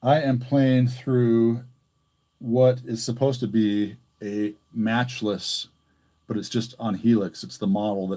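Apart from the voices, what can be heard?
No everyday noise stands out behind the speech.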